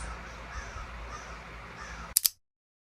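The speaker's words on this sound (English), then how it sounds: "The crows agree with me today." Two sharp crow caws ring out near the end after a stretch of quiet outdoor ambience, then silence.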